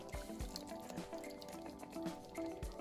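A small amount of water is poured into a simmering cooking pot, giving a few soft drips and wet squishing splashes over a steady low bubbling background, close and fairly quiet.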